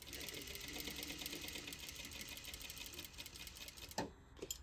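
A sewing machine stitches a dart on a bodice in a fast, even whir that runs steadily for about four seconds. It stops with a couple of soft clicks at the end.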